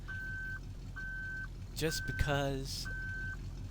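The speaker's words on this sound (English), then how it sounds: "I hear a beeping of a coin, but I'm not going to look for it." In a video game, a coin gives off a steady electronic beep, repeating at even intervals about once a second, with a short burst of speech cutting in midway between beeps.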